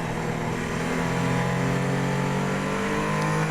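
A Mercedes-AMG ONE engine drives under load, a loud, continuous race-car drone with steady harmonic tones and slight pitch shifts, close and unbroken throughout.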